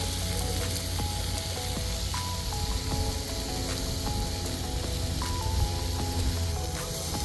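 Steak cooked the American way for Memorial Day sizzles steadily in a hot pan, a continuous close hiss and crackle with no talking over it.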